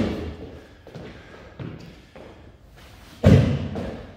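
Feet landing from explosive jumps during an athletic performance workout: several soft thuds spaced across a few seconds, then one heavier, louder landing near the end, fairly close with a roomy echo.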